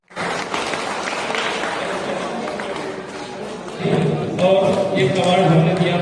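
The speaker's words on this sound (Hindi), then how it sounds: "आपकी एहतराम में जोरदार तालियां सैयद गुलाब को" Audience applause for poet Syed Gulab at a Bengaluru Urdu mushaira gathering, loud continuous clapping from a crowd that swells partway through, with voices and background sound mixed in.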